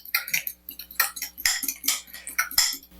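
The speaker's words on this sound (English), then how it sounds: "Break up the egg yolks and beat the eggs." A fork beating eggs in a bowl, breaking up the yolks with quick, rhythmic clinking strokes against the sides, close and fairly loud, with no talking.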